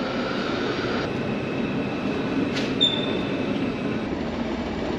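A train from Prague rumbles steadily alongside a platform at a Berlin station with brakes hissing and a brief high squeal of wheels, a continuous mechanical roar throughout.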